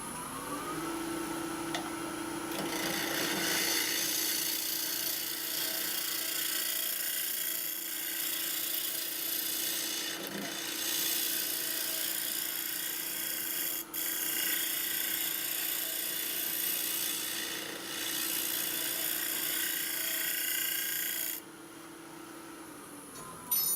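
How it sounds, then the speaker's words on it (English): A Merlin 2 small grinder fitted with a chainsaw cutter texturing wood, a continuous high whirring buzz with a steady tone running nearly throughout, briefly dipping once, then stopping near the end. "using this tool, little grinder with the chainsaw cutter as a texturing tool"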